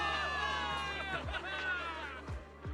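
A crowd of soldiers cheers in the game Zenless Zone Zero, a steady swell of many voices with sharp whoops and shouts rising and falling throughout.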